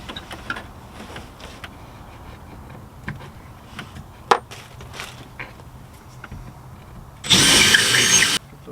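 A power drill bores a hole in wood inside a storage bay turned utility room; quiet handling clicks and knocks give way to one loud, steady whirring burst of about a second near the end.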